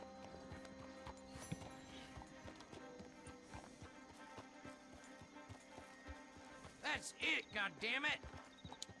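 Video game horse with steady clip-clopping hooves throughout, then a burst of loud whinnying neighs near the end, heard under a continuous tonal game soundtrack.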